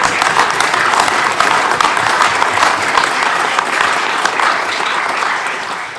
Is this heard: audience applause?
yes